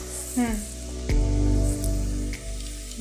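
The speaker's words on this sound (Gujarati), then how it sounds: "હવે આપણે નાખશું સોયા સોસ" Soy sauce goes into a hot pan of Schezwan noodles, and a loud, steady sizzle flares and crackles continuously, with a few sharper pops and bursts.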